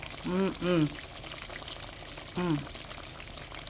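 Catfish fillets frying in oil give a soft continuous sizzle under a voice speaking in short bursts.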